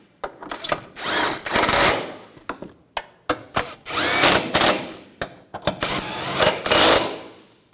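Power tool driving in condenser bolts on a 2011-2018 Volkswagen Jetta, three loud bursts of whirring each ending in a rising whine as the bolt seats, separated by short clicks and pauses.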